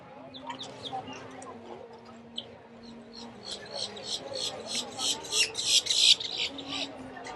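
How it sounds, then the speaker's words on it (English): A loud crow caws and squawks in bursts, growing harsher toward the end, while people talk quietly underneath at EPCOT's Flower & Garden Festival. "Loud bird."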